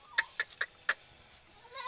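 A goat in labour during a kid's birth gives four short, sharp bleats in quick succession, then falls quiet; the cries are fairly faint and there is no talking.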